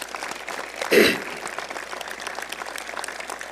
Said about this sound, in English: give another round of applause for Professor Simons